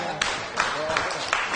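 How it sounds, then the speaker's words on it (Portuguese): Audience applause for a pastor at a stage event, a steady broadband patter of clapping with a few sharper peaks, running about a second and a half at moderate level under a voice. "Vamos aplaudir o pastor Taborda."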